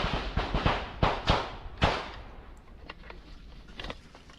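Shots fired by Ukrainian police: a burst of sharp, loud cracks in quick succession, then a few fainter, more scattered pops trailing off, with no talk over them.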